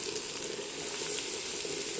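Steady, soft crackling sizzle of onions frying in hot oil, continuous and even with no voices.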